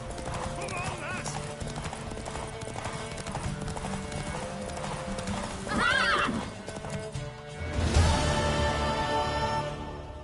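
A horse in The Witcher video game whinnies loudly and its hooves clip-clop, with a second neigh and stamping near the end, all over game music and background character chatter.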